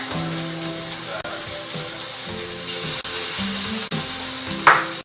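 French fries sizzle and fry in a hot pan in a live cooking demonstration, with a steady, loud crackling hiss and occasional stirring clatter, and no one talking.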